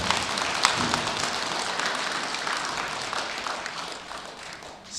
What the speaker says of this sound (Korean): 다시 한번 뜨거운 박수 한번 모시겠습니다